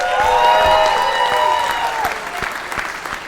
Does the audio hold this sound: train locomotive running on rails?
no